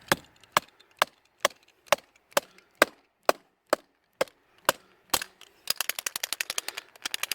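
A series of sharp, evenly spaced whacks of a bullet puller removing a bullet from a cartridge, about a dozen close impacts, followed by a quicker burst of rapid tapping hits at the end.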